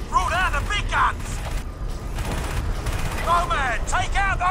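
A giant mech in the video game Crysis fires its spinning-barrel cannons: dense, loud bursts of heavy gunfire over a deep rumble, with whining, creaking mechanical tones rising and falling throughout.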